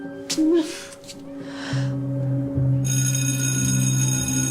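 A cell phone rings in a classroom, a steady electronic ringtone that starts partway through and keeps going, loud and close, after a brief gasp and voices at the start.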